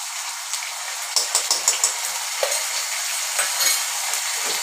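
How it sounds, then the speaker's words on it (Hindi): Garlic, green chilies and curry leaves fry in a hot pan with a bright, steady sizzle, punctuated by a run of light spoon-against-pan clinks and stirring scrapes. "उसके बाद हम डालेंगे इसमें लहसुन, हरी मिर्ची, कड़ी"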